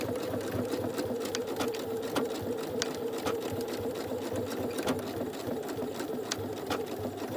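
A sewing machine stitching down a fabric face mask, running in a fast, steady mechanical whir with a continuous rapid ticking, close and alone without voices.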